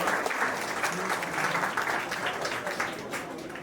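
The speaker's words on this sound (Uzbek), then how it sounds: "Mayli, biz ularni tasanno olqishlab qo'yamiz" An audience applauds an olympiad prize winner at an award ceremony, producing a steady, even wash of clapping that holds for several seconds and fades slightly at the end.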